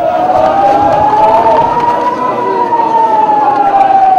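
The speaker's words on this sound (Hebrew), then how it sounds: "פתאום אזעקה בתוך ההלוויה." A wartime air-raid siren wails loud and continuous over a large funeral crowd during the Second Lebanon War in summer 2006, its tone rising slowly and then falling.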